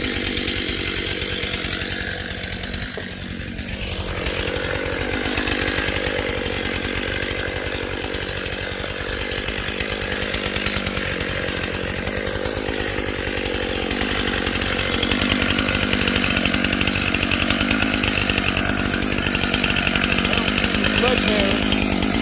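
Chainsaw with a brand-new chain cutting down a tree, a loud continuous buzzing whine that dips briefly under load and then holds steady at full throttle for over twenty seconds.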